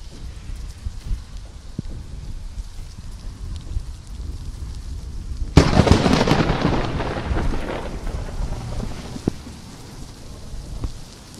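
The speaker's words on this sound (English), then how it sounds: "Think about how easily that bolt of lightning could have hit the water instead of across the street." A lightning bolt strikes nearby during a storm with flash flooding, a sudden loud broadband crack and roar at mid-clip rising over steady rain and rumbling, then a long decaying thunder tail.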